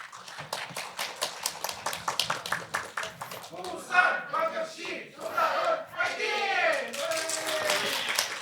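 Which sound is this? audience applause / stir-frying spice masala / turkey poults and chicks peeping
audience applause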